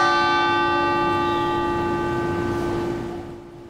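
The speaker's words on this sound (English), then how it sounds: "they stood in silence as the bell rang in honor of those shooting victims." A single bell tolls at an outdoor vigil in Uvalde for shooting victims, a steady ringing hum with rich overtones that slowly fades, heard alone without voices.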